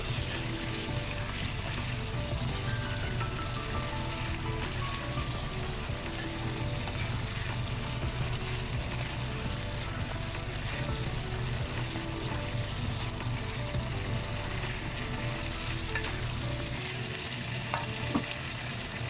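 Beef sizzles and fries steadily in a hot pot, a constant crackling hiss with occasional stirring, no voices.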